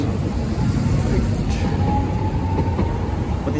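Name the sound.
small train crossing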